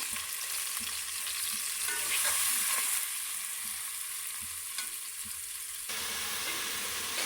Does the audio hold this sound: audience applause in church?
no